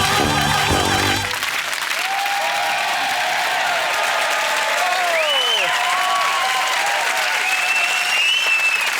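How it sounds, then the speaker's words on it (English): A studio audience at a comedy show claps along to theme music: dense, loud, sustained applause that starts as the music's final chord cuts off and continues steadily under a whistling tone. "the audience were clapping along to the theme music"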